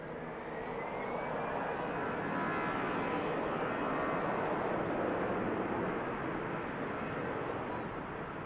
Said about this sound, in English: Ryanair arriving in from Dublin next.